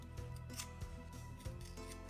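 An X-Acto knife trims masking tape during a DIY bedding project, a series of quiet, close clicks and short scraping cuts repeating irregularly over faint background hum.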